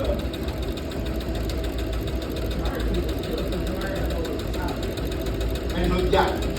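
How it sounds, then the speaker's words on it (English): A sewing machine stitches fabric with a fast, steady motorized whir and needle chatter, running close by under a person talking casually. "It's so simple, just casually sewing. Right, and it goes fast, right?"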